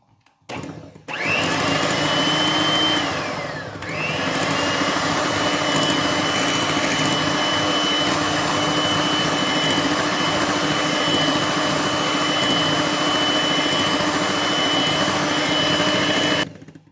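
A mixer grinder whirs loudly and steadily, blending dumpling batter for about fifteen seconds, with a brief dip in pitch partway through as the load shifts and then picks back up.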